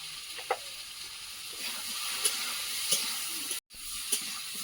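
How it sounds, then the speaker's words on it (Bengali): Potatoes with crushed garlic, salt and turmeric frying in a pan give off a steady close sizzle, with a few faint clinks from stirring over it and a brief dropout near the end. "আলুটা আগে একটু ভালো করে ভেজে নেব"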